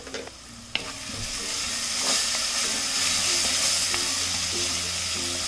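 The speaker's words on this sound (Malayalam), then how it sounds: "1/2 ടീസ്പൂൺ ഗരം മസാല പൊടിയും 1/4 ടീസ്പൂൺ ഗാർലിക് പൗഡറും 1/4 ടീസ്പൂൺ കാശ്മീരി ചില്ലി പൗഡറും കൂടി ഇട്ടിട്ട് ഇളക്കി കൊടുക്കണം." Garam masala, garlic powder and Kashmiri chili powder fry in a pan for a vindaloo, giving a steady hissing sizzle with a few scraping stirs and clinks, close and without speech.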